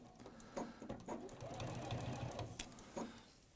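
A Juki QVP 2200 sewing machine hums and stitches in a steady mechanical run, with a few louder thumps along the way and faint background murmur.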